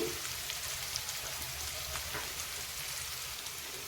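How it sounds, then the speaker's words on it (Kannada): Onion rice masala frying in a pan, a faint, even, continuous sizzle with soft crackles and no talking. "ಈಗ ಇದು ಕೂಡ ಚೆನ್ನಾಗಿ ಫ್ರೈ ಆಗ್ತಾ ಇದೆ"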